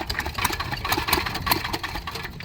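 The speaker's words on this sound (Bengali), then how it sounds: "মেশিন তৃতীয়বারের মতো আবার শুরু করতে যাচ্ছি।" The diesel engine of an irrigation water pump chugs and knocks in quick rough pulses, loud and close, as it is cranked and tries to catch after repeated failed starts.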